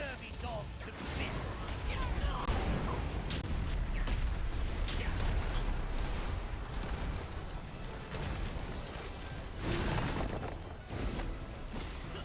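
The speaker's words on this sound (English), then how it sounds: "Cannon! Blast these scurvy dogs to bits!" Heavy cannon fire booms and crashes in World of Warcraft, loud and continuous with dense battle noise and shouted game dialogue over it.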